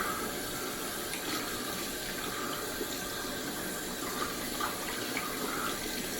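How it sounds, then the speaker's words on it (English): Running tap water splashes steadily as a shaving brush, a hybrid synthetic and badger S1 Innovator, is rinsed under it in a sink, a continuous close hiss with no talking. "So just rinsing out that brush."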